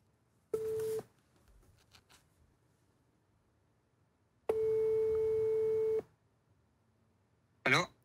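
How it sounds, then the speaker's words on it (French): A telephone call tone plays as a caller waits to reach someone, with three separate steady beeps: a short one, a longer one and a brief final burst, clear and close with faint background murmur between them. "Je vais appeler Flo pour savoir s'il me doit 100 balles de sub"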